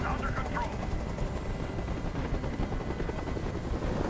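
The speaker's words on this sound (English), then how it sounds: "Tell that helicopter to get out of here." A helicopter hovers overhead in the video game Detroit: Become Human, its loud rotor chop droning continuously and close for the whole stretch.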